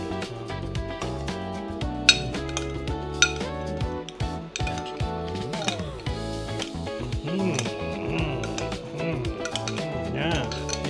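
Mango habanero tofu being tossed in thick sauce in a pan, with repeated close clinks and scrapes of utensil on cookware in an uneven rhythm, mixed with bright tonal sounds.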